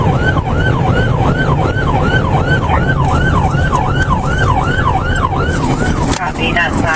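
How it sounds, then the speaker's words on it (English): A police car siren wails steadily and loudly during a pursuit, its rising and falling tone repeating in a fast, even cycle over a constant engine and road roar, with a brief disturbance near the end. "She's not stopping for lights and sirens."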